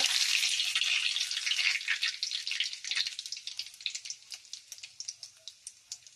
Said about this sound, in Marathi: तेल तापलंय आपण आता जिरं मोहरी टाकू कढीपत्ता